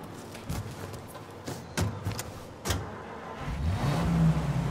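A car driving in the video game Mafia Definitive Edition, with a steady low engine rumble and a few sharp clicks and knocks over it, rising into a louder hum near the end.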